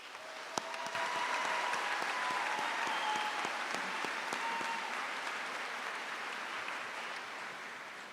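An audience claps steadily for several seconds at a high school graduation ceremony, a dense wash of applause that rises quickly and slowly tapers.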